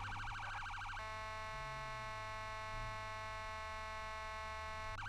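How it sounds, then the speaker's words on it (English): A Dallas police car siren wails steadily and loud, shifting into a sustained electronic tone, with a low engine hum beneath and no talking. "Lights and siren mean absolutely nothing."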